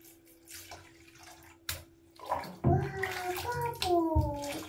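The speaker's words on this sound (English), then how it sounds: "It's making bubbles." A bath bomb fizzes and foams in bath water, with a splash and sloshing water building up as a child and an adult talk over the bubbling.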